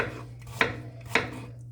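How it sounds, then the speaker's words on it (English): Knife chops through an apple with the skin on against a cutting board in a home kitchen, two sharp, close knocks about half a second apart over a low steady hum. "we're just chopping up our apple,"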